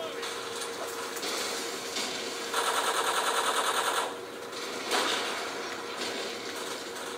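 Rapid automatic gunfire in Call of Duty 4 team deathmatch, a dense rattling burst lasting over a second amid steady game noise, with a few scattered shots before and after, fairly loud throughout.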